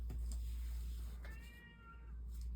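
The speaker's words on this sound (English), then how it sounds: "My cat is meowing." A house cat meows once in a short, clear rising-and-falling call over a low steady background hum, with no talking.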